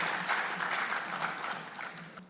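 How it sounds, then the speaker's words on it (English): Steady applause from an audience at a 2022 sheriff's office award ceremony, a dense patter of many hands clapping for the whole stretch without voices. "Another round of applause today for Mrs. Deffendorfer."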